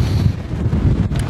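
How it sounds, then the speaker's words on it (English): Strong, steady wind buffets the microphone aboard a sailboat in Iceland in autumn, a continuous low roar with gusty surges filling the whole moment, with no voices. "it's windy."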